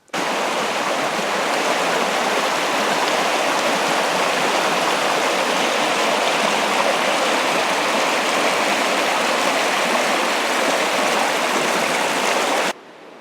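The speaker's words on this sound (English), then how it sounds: "it's full of water, real deep water all around there, and dropping huge trees, and man, it's just a mess, and the river is really wide there now." A deep, wide flooded river rushes steadily, a loud broadband roar of water that fills the whole stretch without pause and cuts off abruptly at the end, with no voices.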